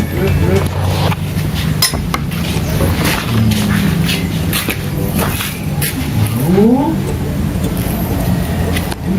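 Honda Beat 110 cc fuel-injected scooter running after a tune-up, a steady close engine hum with a couple of short revs and some clinking, while someone speaks over it.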